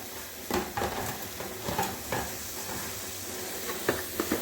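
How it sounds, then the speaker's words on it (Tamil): Mint, coriander and paste sautéing in a pan for a dhal rice dish: a constant sizzle and hiss with soft scraping stirs and a few light clinks of utensil on metal, close by and without speech. "இது எல்லாம் நல்லா சுருண்டு வர வரைக்கும் வதக்கிக்கலாம்."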